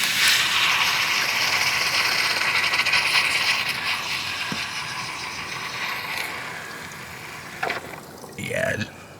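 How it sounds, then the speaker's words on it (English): A sharp, bright hiss of fuel spraying from a disconnected fuel line on a Mazda CX-5 during fuel pump replacement runs for several seconds, gradually fading, followed by a few clicks and a short spoken remark. "there is still some fuel spraying out"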